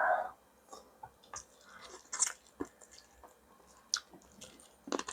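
Hot chicken leg from samgyetang, Korean ginseng chicken soup, being bitten and chewed, with soft wet squishes and crunchy bites in an irregular rhythm, close and fairly quiet with no talk.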